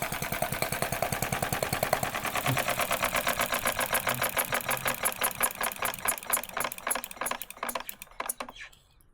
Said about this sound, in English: I heat the workshop with these Chinese diesel heaters